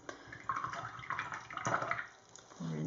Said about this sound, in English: Rinse my brush out